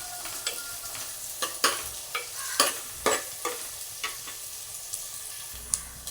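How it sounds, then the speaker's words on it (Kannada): Chopped onion, ginger and green chilli fry in oil for a mackerel fish curry, with a spoon stirring through them in a series of sharp scraping clacks over a soft sizzle, close and moderately loud, with no voices. "ಈಗ ನಾನು ಇದಕ್ಕೆ ಕಟ್ ಮಾಡಿದ ಈರುಳ್ಳಿ, ಜಿಂಜರ್ ಮತ್ತು ಕಾಯಿ ಮೆಣಸನ್ನು ಹಾಕಿ ಫ್ರೈ ಮಾಡ್ತೇನೆ।"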